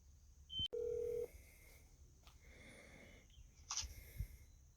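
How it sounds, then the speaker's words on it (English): A short telephone dial tone sounds, then quieter faint clicks and chirps of dialing in a mostly quiet room. "I think it's time to make a Hey Lance phone call"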